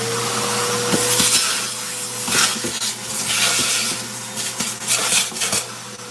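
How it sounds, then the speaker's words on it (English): A vacuum cleaner sucks out a plastic gecko tub, its steady motor whine running throughout while the nozzle knocks and scrapes against the tub in repeated sharp clunks and rattles. "I vacuum out the tub."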